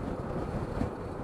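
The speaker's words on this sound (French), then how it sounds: "On a un bon vent de face" Strong headwind buffets the rider of a 2020 Zero SR/S electric motorcycle on the road, a dense, steady low roar of wind noise filling the short stretch with no voices.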